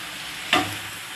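A spoon stirs vegetables with garlic and green chili frying in a pan on a fairly high gas flame, making a steady sizzle with one sharp scraping stir partway through.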